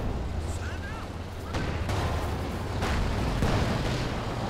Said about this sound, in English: Activating the petard mortar and fires the petard mortar while stunned.